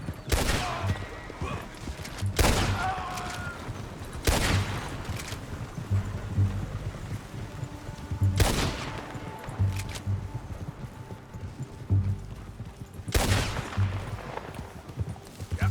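Gunfire in the Western game Red Dead Redemption 2 during a standoff with Army soldiers over cargo, with sharp loud shots at irregular intervals several seconds apart over a low rumbling background and faint hoofbeats.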